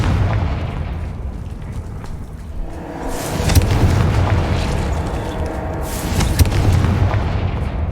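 A Confringo fire spell explodes in the Hogwarts Legacy video game, a deep booming blast with a rumbling tail, and a second heavy burst follows a few seconds later over a low background.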